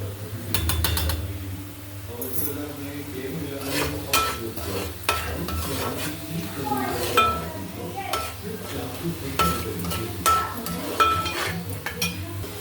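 A spatula scrapes and stirs gongura prawn curry in a pan, steady sizzling under repeated metallic clinks and scrapes, close and moderately loud, with occasional faint talk.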